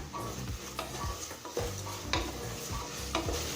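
Vegetables sautéing in a pan for coconut milk rice, with a soft sizzle under repeated scraping strokes of a spatula, an even rhythm of stirring, close and moderately loud.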